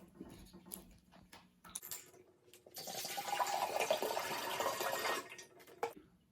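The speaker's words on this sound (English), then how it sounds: "Pour water into a vase." Water is poured into a vase for a soda can submarine experiment, a few light drips and clinks first, then a steady splashing stream for about two seconds before it stops, close and moderately loud with no talking.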